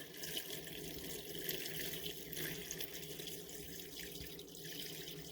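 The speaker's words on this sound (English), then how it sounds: "So from here, we're going to go ahead and pour it right on in." Salt water brine poured into a tightly packed jar of traditional German sauerkraut for fermentation, a steady, continuous splashing pour that runs close and fairly loud for several seconds, with no voices.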